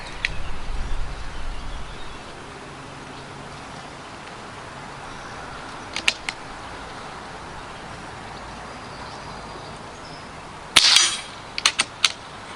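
FX Biathlon airgun shots hitting targets: a few sharp, quick cracks and clicks, including a louder burst followed by short snaps near the end, against a faint hissing background.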